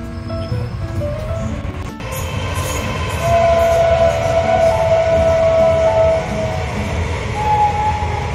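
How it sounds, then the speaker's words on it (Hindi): A train rumbles past close by near a village, its steady loud roar of wheels and cars carrying on throughout, with a long sustained horn blast in the middle and another briefer tone near the end. "ट्रेन की बात कर रहा था मैं, ट्रेन भी आ गई।"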